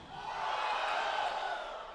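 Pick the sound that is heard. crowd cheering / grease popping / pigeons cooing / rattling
crowd cheering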